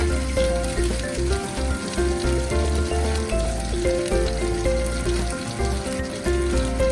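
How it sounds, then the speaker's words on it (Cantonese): Chicken wings frying in a pan as chopped chilli, scallion and garlic are tipped in, a loud close crackling sizzle with rhythmic low knocks and scrapes of stirring, steady throughout with no voices. "咁就將啲辣椒粒啊、葱粒啊、蒜頭粒啊咁樣倒落去咧"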